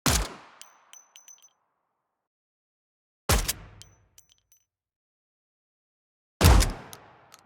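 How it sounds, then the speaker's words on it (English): Three separate redesigned gunshots from the Unreal Engine 5 Lyra game, each a sharp, loud crack with a ringing metallic tail that decays over about a second. They come alone, spaced roughly three seconds apart. "For each gun sound, every layer is separated into different random containers in Wwise to have as much variation as possible between each gunshot"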